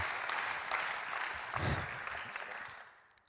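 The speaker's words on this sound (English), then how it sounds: "Can we just give a round of applause of encouragement?" Audience at a talk clapping in encouragement, a soft wash of many hands heard from a distance, fading out toward the end.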